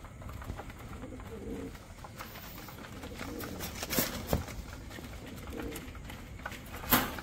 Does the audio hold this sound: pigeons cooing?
yes